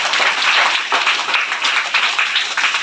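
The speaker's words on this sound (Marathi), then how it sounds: "आपण सर्व विद्यार्थ्यांनी एकदा टाळ्या वाजवून आपण आपलं सर्वांचं स्वागत करून घेऊया" A crowd of school students applauds with dense, steady clapping throughout, fairly loud and close, with no talking.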